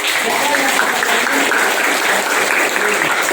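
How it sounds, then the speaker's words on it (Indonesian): Students in a classroom clap together for a group's presentation, giving steady, loud applause that holds evenly throughout, with voices mixed underneath. "beri tepuk tangan untuk."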